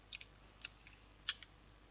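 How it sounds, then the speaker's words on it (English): A few light, sparse keystrokes on a computer keyboard, soft close clicks spaced irregularly over a quiet room background. "we can just type it like this"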